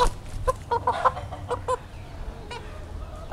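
Backyard chickens, five-month-old birds left after a typhoon, give scattered short clucks near and at moderate volume over a low background rumble.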